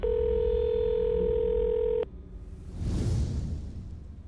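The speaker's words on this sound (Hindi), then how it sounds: "अत्थर ने सबसे पहले मुझे फोन किया।" A steady electronic telephone tone holds for about two seconds, then cuts off, followed by a soft whooshing swell.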